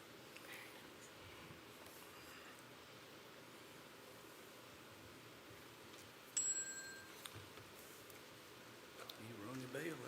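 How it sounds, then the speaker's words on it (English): A single bright bell ding rings out once partway through a county planning commission meeting, short and clear above a quiet, steady room hiss. "You rung the bell that time."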